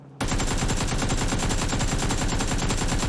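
Rapid automatic gunfire from a weapon in PUBG on PC, a dense steady stream of loud shots that starts abruptly after a brief quiet moment and runs unbroken to the end.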